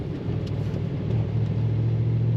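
A 1992 Ford Mustang LX convertible gives off a low, steady engine rumble while driving on a wet road, a continuous deep drone that swells slightly as it goes, heard from inside the car with no talking.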